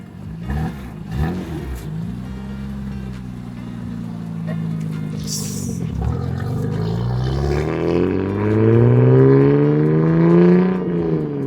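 BMW M4 F82 with an aftermarket exhaust passing by, its note rising from a steady drone to a louder, climbing roar as it draws near, with the pitch sweeping as the car flies past.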